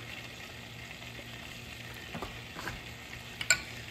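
A whisk scrapes and stirs flour into hot oil and butter in a pan, faint and low under a quiet sizzle, with a few louder clinks of the whisk against the pan near the end.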